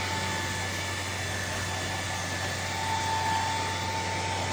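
A hair blow dryer blows steadily on straightened virgin hair after a bond-repair straightening treatment, giving a continuous close, even whoosh with a low motor hum and no pauses.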